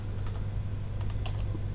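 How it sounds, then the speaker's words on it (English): Steady keystrokes on a computer keyboard during live typing, faint clicks sitting over a constant low hum with no one talking. "while I'm typing, it's also typing"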